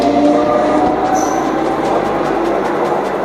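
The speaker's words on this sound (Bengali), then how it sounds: "তো ট্রেন এখন এই মুহূর্তে ছেড়ে দিল।" A train departs Uluberia station with a loud, steady rumble of wheels on rails, a rising mechanical tone and a brief high squeal partway through, heard close from the platform with no talk.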